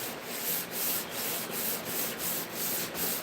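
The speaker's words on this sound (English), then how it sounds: "Hit it with some hand sander. Just a little bit, just to make sure there's no more burrs." Hand sander rubbing burrs off the edge of a workpiece in steady, repeated back-and-forth strokes, about two per second, close and moderately loud with no talking.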